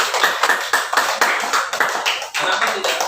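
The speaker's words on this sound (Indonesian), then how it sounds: "Tepuk tangan untuk Cesar." Students in a classroom clap together for a classmate, a dense, steady patter of many hands with a loose regular pulse, close and sustained for several seconds without voices on top.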